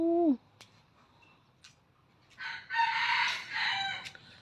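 A rooster crows once, loud and close, at a roadside food stall area, followed by a faint squawk and a longer burst of higher-pitched fowl calls from nearby chickens.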